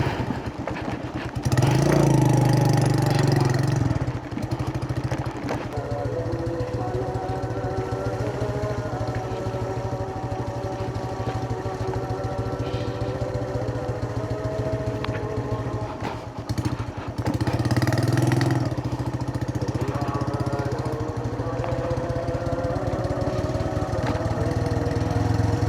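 A broken-down motorcycle engine runs steadily at idle for the full stretch, a loud, close, continuous mechanical chug with a buzzy mower-like tone and brief surges early and late, with no talk over it.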